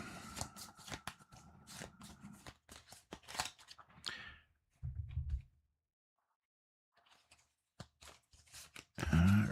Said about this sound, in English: Oh, put this in the deck to shuffle.